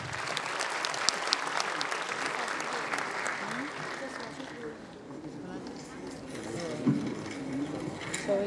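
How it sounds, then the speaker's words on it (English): Enthusiastic audience applause at a medical college convocation ceremony, thick and lively at first, then thinning and dying down midway, leaving room noise and some speech before a few scattered claps return. "Please give a big round of applause, everyone."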